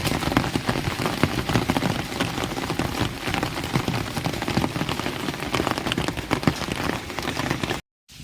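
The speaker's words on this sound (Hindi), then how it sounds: "आज काफ़ी तेज बारिश है।" Heavy rain pours down steadily, a dense, loud wash of drops drumming on surfaces throughout, cutting out briefly near the end.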